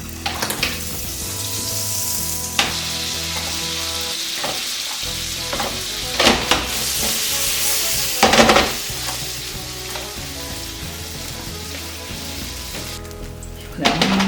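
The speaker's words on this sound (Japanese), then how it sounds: "ちょっとパリッとする程度に焼いていきます。 ポイッと入れます。" Slices of garlic toast crisping in a frying pan with a little oil over medium-low heat, giving a steady soft sizzle throughout with a few louder crackling bursts and faint pan knocks.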